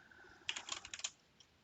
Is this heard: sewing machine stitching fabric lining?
no